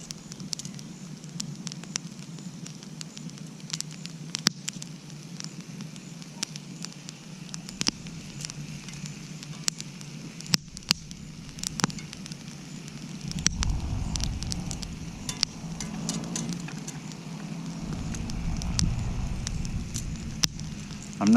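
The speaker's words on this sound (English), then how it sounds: "I'm going to show you how to cook it over a campfire" A campfire burns steadily with scattered sharp pops and crackles over a low rushing hiss, close by, as bacon cooks over it, with no talking.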